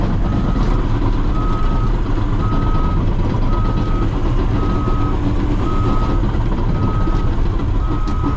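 Dozer backing up slowly on a drainage and sewer job site, its steady reversing beeps repeating at an even pace over the constant loud rumble of the diesel engine.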